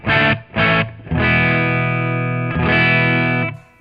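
An electric guitar runs through a Caline CP-70 High Chief dual overdrive pedal, playing two short chord stabs and then long sustained overdriven chords, loud and close.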